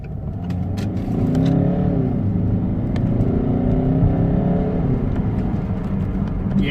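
Peugeot 508 2.2 HDI diesel with a repaired turbo, engine revving and pulling hard under boost, a steady loud drone with rising and falling pitch sweeps and no talk.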